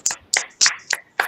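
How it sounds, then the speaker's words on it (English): Five sharp, evenly spaced claps of small hands, children giving a round of applause in a kindergarten class session, close and crisp with quiet gaps between each clap and no talking. "give her a big round of applause"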